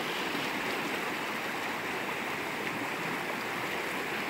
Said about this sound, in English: the river's really flowing over across the way